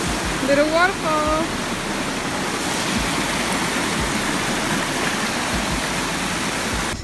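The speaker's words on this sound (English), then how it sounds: "Little waterfall." A small waterfall at McLeans Falls in New Zealand pours steadily as a continuous, fairly loud broadband rush, with brief voices and a short whistle-like sound near the start.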